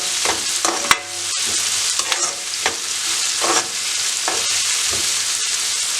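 Onions and coriander sizzle loudly in a hot pan for Marai Piratte, with steady frying hiss broken by several sharp scrapes and clicks of a spoon stirring through the mix.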